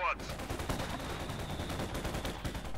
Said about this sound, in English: Got the heavy mortar there firing. The 120mm, very popular mortar design here.